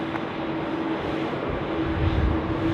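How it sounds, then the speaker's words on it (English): A Qantas Airbus A330-300 taxiing at Sydney Airport gives off a steady, distant engine whine over a broad hum of airport ambience, without noticeable variation. "It is the A330 going to be heading to Manila. So it's currently taxiing down Alpha."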